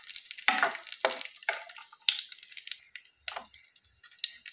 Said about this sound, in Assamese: এতিয়া ইয়াতে মই কাজুকেইটা অকণমান ভাজি ল'ম